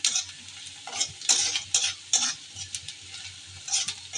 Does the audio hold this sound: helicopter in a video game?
no